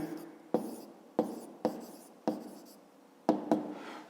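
A pen taps and scratches numbers onto paper in short, separate strokes, about seven quick bursts close up in a quiet room, with no voice over them.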